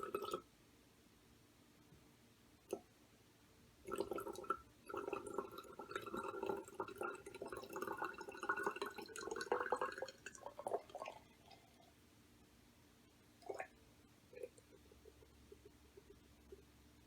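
Water poured into a glass volumetric flask during a lab density experiment, a soft trickling fill lasting several seconds with a few drips before and after, quiet and close.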